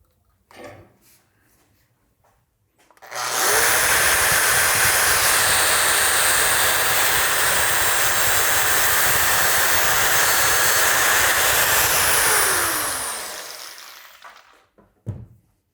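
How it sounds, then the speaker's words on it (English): Angle grinder with a regular cutoff disc slicing through an outer cable sleeve clamped in soft vise jaws, a loud sustained high-pitched whine and hiss lasting about ten seconds, spinning up and winding down. "We're just gonna use the angle grinder with a regular cutoff disc."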